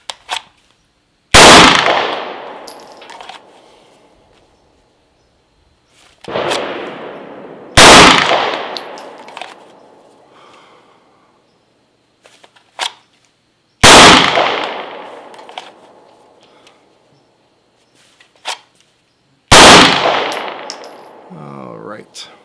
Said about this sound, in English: Let's go ahead and try this again with the Glock 26.